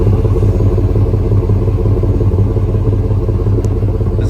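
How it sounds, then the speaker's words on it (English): A 1999 Chevrolet Suburban C2500 idling with its exhaust recorded up close, a steady, loud low burble with even pulsing throughout and no talk. "It's got just enough of that exhaust sound."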